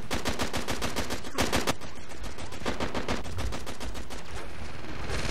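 Gunfire in the Uncharted 3 beta co-op adventure set in Syria: dense bursts of rapid automatic shots with a few heavier single reports, loud and continuous throughout, with no talk over it.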